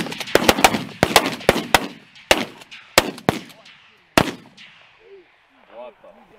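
Shotgun blasts ring out during a fall goose hunt, a rapid volley of sharp, loud, close shots with echoing tails, followed by distant goose honks as the firing stops.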